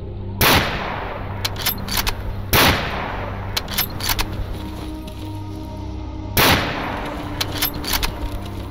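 SMG gunfire in the Stalker video game: three loud, sharp bursts spaced a few seconds apart, each followed by scattered smaller clicks and clatter from the game over a low steady background hum.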